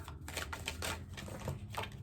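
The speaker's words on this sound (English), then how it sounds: "I'm just going to get the remaining cards shuffled out" Tarot cards being shuffled by hand, a dense run of soft papery riffles and flicks repeating steadily and close up, with no talking.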